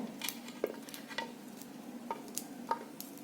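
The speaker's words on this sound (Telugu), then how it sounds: "అలా చిన్న చిన్న పీసులన్నీ కూడా అలా తీసేసుకోండి పక్కన చూసారు ఎలా కట్ చేస్తున్నామో" A knife cutting cauliflower into small florets for cauliflower pickle, soft scattered taps and light clicks on a board at an unhurried pace, close but quiet.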